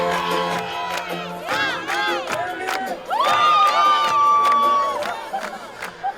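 Wedding guests at a Roma wedding celebration cheer, whoop and shout together in a loud, sustained crowd roar, with high sharp yells rising over the noise and music.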